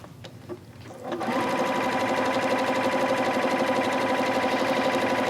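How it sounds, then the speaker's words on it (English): A sewing machine runs a decorative checkerboard stitch (stitch 21) on a quilting show, starting after a second of quiet and then whirring steadily and fast at close range with no talk. "I'm going to select stitch on this machine, stitch 21, which is kind of a checkerboard stitch. And I'm going to start sewing."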